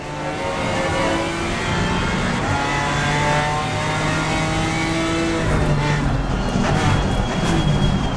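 A BMW race car engine in a sim-racing game roars steadily through gear changes, revving up and down with brief tire squeal, loud and continuous throughout.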